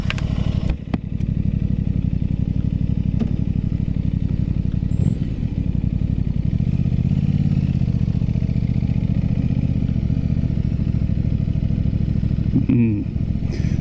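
An Aprilia RS 660 motorcycle rides on the road, its engine a steady, loud drone close to the mic that holds through the whole stretch. A couple of sharp clattery knocks come near the start and again near the end.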